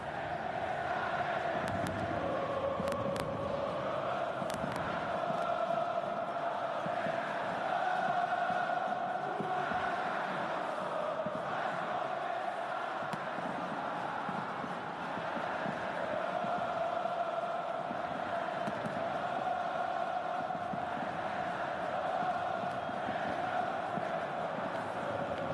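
Flamengo fans at the Maracanã stadium cheering as the teams take the field beneath a giant mosaic, a steady roaring crowd with chanting and singing carried from a distance throughout.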